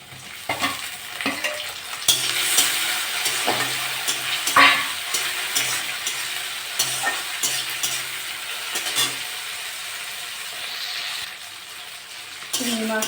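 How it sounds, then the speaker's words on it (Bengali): Shrimp frying in a pan over sliced onions that are already browned, a steady sizzle with stirring and scraping of the utensil throughout, and light clinks of the pan now and then. "আমি চিংড়ি মাছগুলো দিয়ে দেবো।"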